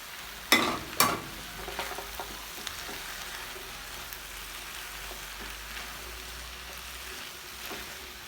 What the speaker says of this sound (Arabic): رح نحط علبة الذرة، بسم الله. ذرة معلبة. وعندي هون بصلة بيضاء مقطعتها مكعبات وبصلة خضراء، بقلبهم مع بعض